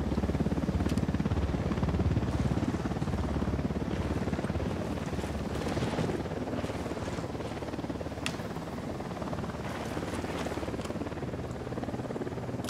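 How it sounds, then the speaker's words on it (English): Supply helicopter flying in the Ghost Recon Wildlands video game, a steady, continuous rotor drone and engine roar filling the whole stretch at an even loudness, with faint clicks and bursts over it. "That chopper, stay low."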